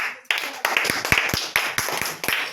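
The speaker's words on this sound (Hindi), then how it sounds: "तो एक बार जोरदार ताली हो जाए।" An audience claps by hand in a quick, uneven burst of sharp slaps, loud and close, with no talking.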